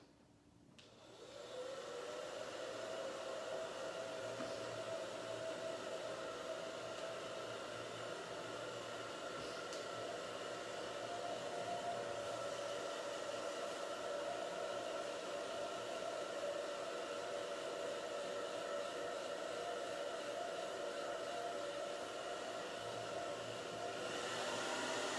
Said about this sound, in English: so I have to blow dry it